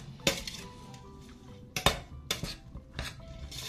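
Spoon scraping and clinking in a bowl as stale bread soaked in milk is stirred, with several distinct knocks against the bowl separated by softer wet mixing, close and alone.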